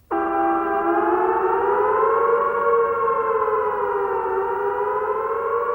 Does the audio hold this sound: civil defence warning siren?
yes